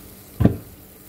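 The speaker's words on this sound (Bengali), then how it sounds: "দিয়ে দিলাম ভেজে রাখা মাছগুলি।" Fried tengra fish dropped into a thin simmering curry, a single short splash and sizzle burst close by, with quiet around it.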